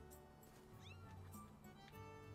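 A cat meowing in the video game The Legend of Zelda: Skyward Sword, a few short rising meows set against steady game music and ambience.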